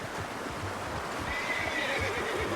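A horse in Red Dead Redemption 2 neighs and whinnies, with soft hoof clip-clop and a low rumbling ambience underneath, heard moderately close at low volume with no talking.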